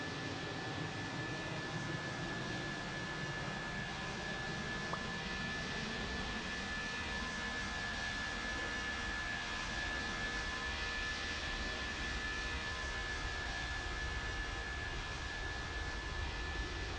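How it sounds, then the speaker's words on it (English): A United airliner taking off in World of Airports, with a steady, broadband jet engine roar and a constant whine held at even loudness throughout, no voices heard. "United 1573 cleared for takeoff"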